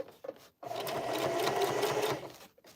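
A sewing machine stitching over thick cotton denim side seams, a steady close mechanical whir running for about two seconds after a brief start, with a few light clicks around it.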